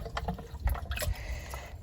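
Water drawn from a homemade garden water bath sloshes and fills a container nearby, with uneven splashy bursts and low thumps over about two seconds, no talking.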